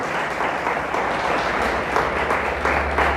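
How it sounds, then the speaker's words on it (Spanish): Church congregation applauding God at a pastor's urging, a dense, steady wash of many hands clapping that carries on loudly and without a break. "Le damos un aplauso a Dios. Déselo fuerte, fuertes para Dios."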